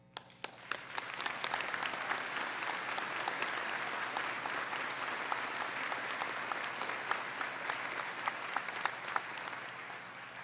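An audience at a university spring convocation ceremony breaks into sustained applause, with dense clapping that swells quickly and holds steady throughout.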